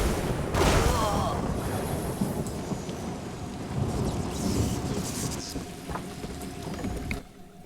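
Thunder rumbles from a lightning spell in The Elder Scrolls Online, a sustained loud roll with rain and wind-like noise throughout, a sharper crack near the start, fading at the end.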